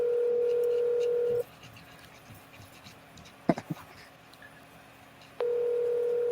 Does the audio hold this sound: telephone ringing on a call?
yes